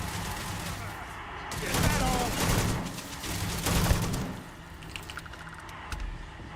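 Bursts of gunfire from enemies in the space game Starfield, a scattered volley of shots over about two seconds with further shots trailing off amid game ambience and clicking.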